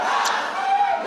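A rowdy crowd at a Chicago city meeting on the migrant crisis shouts and yells together, loud and close, in a short burst.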